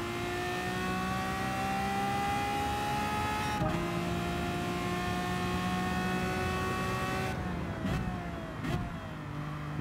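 The Lamborghini V12 Vision GT, driven in a racing video game on Trial Mountain Circuit, holds a sustained high engine whine that dips sharply twice at gear changes before climbing again. It sits close and alone, with a faint electrical hum beneath.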